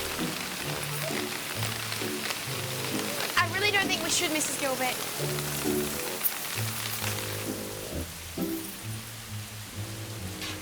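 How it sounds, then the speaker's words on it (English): Steady heavy rain hisses throughout, blending with music and a voice speaking over it. "it was raining outside. A lot."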